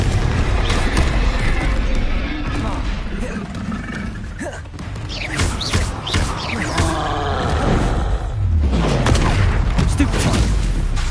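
Confringo fire-spell blasts in Hogwarts Legacy combat: loud repeated booming thumps and crashes amid continuous dense battle noise, with spoken voices woven through the fight.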